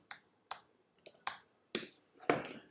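Typing on a computer keyboard, six sharp separate key clicks spaced about half a second apart, close and crisp in an otherwise quiet room.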